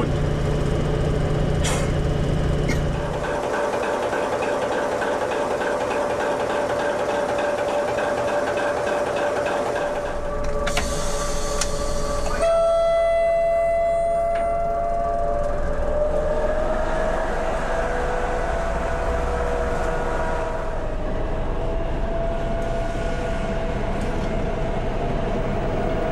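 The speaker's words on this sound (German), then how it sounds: "Jetzt hat der Motor Zündung aufgenommen, jetzt läuft er rund." A V300 diesel locomotive engine runs steadily with a loud, continuous rumble and drone, its tone shifting slightly as it idles, with a brief clatter midway.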